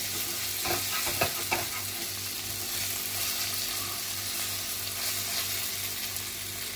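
Bhindi masala with soft-cooked tomato being stirred in a frying pan, a steady close sizzle with repeated scraping strokes from the spoon throughout, no voices.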